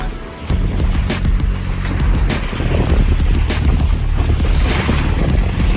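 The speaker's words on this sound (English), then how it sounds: "This is what catamarans are made for, wind on the beam." A Leopard catamaran sails with wind on the beam through the Grenadines, with steady loud wind buffeting the microphone, water rushing past the hulls, and occasional wave slaps throughout.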